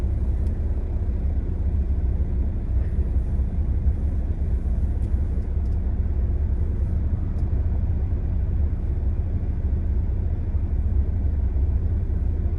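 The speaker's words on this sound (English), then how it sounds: "I'm gonna focus on driving here." A car is driven along a road, heard from inside the cabin as a constant, heavy low rumble that stays even and unbroken throughout, with no voices.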